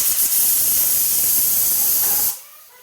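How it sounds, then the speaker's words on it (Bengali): Silver carp fish drops into hot oil seasoned with black cumin and sets off a loud, close, hissing sizzle that holds steady for a couple of seconds, then cuts away abruptly, with no voices. "কালা জিরেটা দিয়ে তেলটা তেতে গেলেই মাছটা আমি আস্তে আস্তে ঢেলে দেবো"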